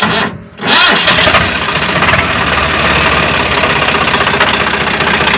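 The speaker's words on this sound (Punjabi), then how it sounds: "ਟਰੈਕਟਰ ਦਾ ਇਹ ਨੂਟਲ ਤੋਂ ਬਗੈਰ ਸਟਾਰਟ ਹੀ ਨਹੀਂ ਹੁੰਦਾ" A tractor engine fires up after a brief quiet moment, then settles into a loud, close, steady rumbling idle with a knocking diesel rhythm.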